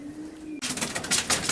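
Pigeons coo from inside a loft holding young Fabry, Janssen and Ardennes birds, first as a low steady tone, then with a louder, breathy rustle like wing flapping that continues to the end.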